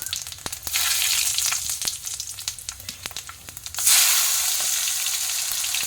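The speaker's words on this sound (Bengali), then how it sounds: "শুকনো লঙ্কা পাঁচ ফোড়ন দিয়ে দিলাম" Dried red chillies and panch phoron crackle and sizzle in hot oil, close by, with scattered pops, then a sudden louder hiss that holds steady to the end.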